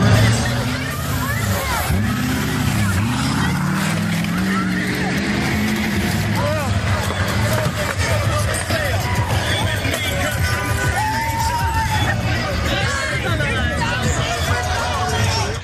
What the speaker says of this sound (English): a whole bunch of trucks with Trump flags and things like that tried to run over some civilians who were crossing the street